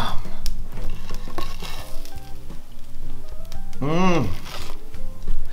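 Grilled garlic bread cheese hot dogs sizzle in a frying pan with a steady, close crackle. Utensils scrape and stir in the pan, and a voice briefly talks over it.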